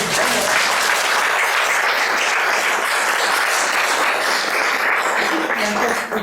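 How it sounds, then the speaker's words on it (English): Steady, dense applause fills the room from a panel-discussion audience honouring Amit, loud and continuous throughout with no break or fade. "Let's have an applause for Amit"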